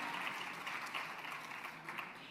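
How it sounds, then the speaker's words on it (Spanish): An audience at a Mexican political forum claps for a guest. The applause is faint but continuous, a dense patter of many hands with no voices. "Un aplauso para él"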